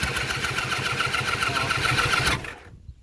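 Jet boat engine being turned over by the starter, a fast rhythmic cranking chug for over two seconds that then cuts off abruptly, close and loud.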